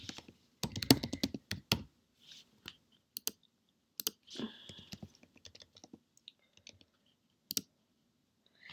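Typing an address on a computer keyboard: quick bursts of crisp, close key clicks separated by short pauses, with a few isolated taps toward the end and no talking.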